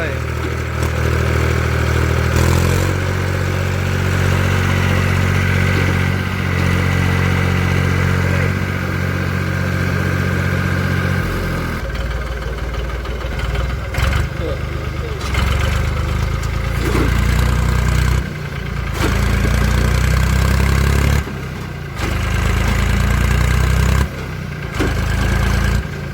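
A tractor stuck in mud churns its engine at a steady labouring rumble that shifts and surges as it strains to pull free, loud and close, with people talking intermittently over it.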